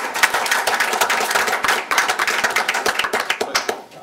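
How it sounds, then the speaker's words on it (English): People at a city commission meeting clap for a departing staff member, with sharp, close handclaps from a modest group, a brief lull around two seconds, then scattered claps tapering off. "So we want to give Dave a big round of applause for his service."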